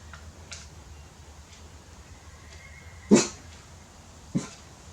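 A dog barking at a horse gives two short barks nearby, one louder than the other, separated by a second or so, over a quiet background.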